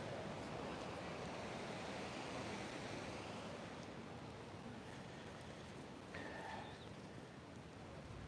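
Ocean waves washing onto the shore at an oceanfront yoga session, a steady, full hiss of surf rolling in without pause, with faint thin tonal calls briefly appearing late on.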